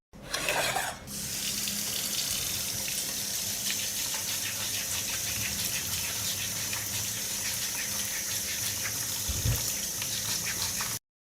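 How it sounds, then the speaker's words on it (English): Cucumbers are washed under a running kitchen tap before being made into pickles. After a brief splash at the start, a steady close gush of water pours for about ten seconds, then stops abruptly. "I will wash the cucumbers first."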